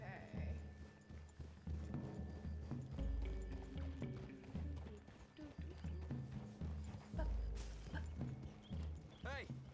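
Horses clip-clop and gallop through trees in a Western video game, hooves thudding steadily beneath a music score with occasional louder hoofbeat bursts and a brief whinny near the end.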